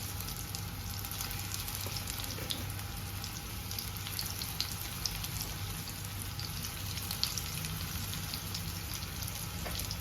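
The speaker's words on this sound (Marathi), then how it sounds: "हे बघा, हे दोन्ही बाजूनी खरपूस तेलावरती फ्राय करायचे" Soya-corn kababs shallow frying in oil in a pan over low-to-medium heat give off a steady, faint, crackling sizzle with scattered small pops, continuous and even, with no voices.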